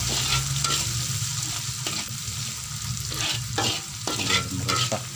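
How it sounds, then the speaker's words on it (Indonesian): Sambal with salted anchovies and green chili stirred in a hot pan, a loud steady oil sizzle with repeated scraping strokes of the spoon cutting through it, close and with no talk. "Diaduk sampai rata."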